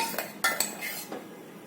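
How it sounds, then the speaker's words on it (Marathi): A spoon scooping urad flour into a bowl: a few light, close clinks and scrapes of the spoon against the bowl within under two seconds, quiet and without speech. "एका बाउलमध्ये दोन ते तीन चमचे माडग्याचं पीठ घ्यायचं"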